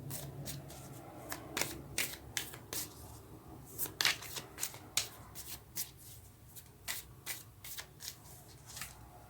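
Tarot cards shuffled by hand in a series of crisp riffling bursts and soft slaps, close and fairly quiet, repeating irregularly with brief pauses between.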